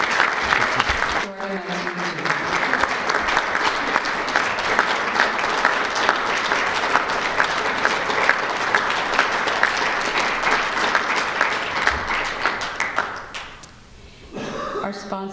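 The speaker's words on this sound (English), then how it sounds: "please let the audience thank you with sincere applause" Sustained audience applause at a conference, a dense steady clapping that runs on for about thirteen seconds before thinning out, with a few scattered claps at the end.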